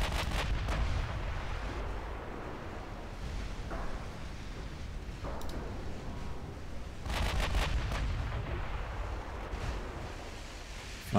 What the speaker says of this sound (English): Why are you firing HE?